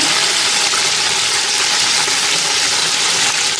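Water gushes into a cooking pot of chicken pulao with tomato, garlic and ginger in one loud, continuous pour, a bright splashing rush from start to finish.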